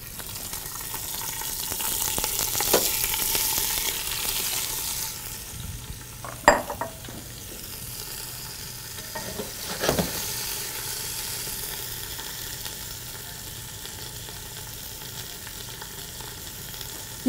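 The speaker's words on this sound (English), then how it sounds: "I want to brown that up a little bit, along with the onion." Pork roast and sliced onion browning in a pan give off a steady sizzle throughout, with a few sharp clinks and scrapes of a utensil stirring near the middle.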